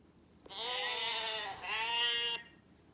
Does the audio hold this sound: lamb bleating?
yes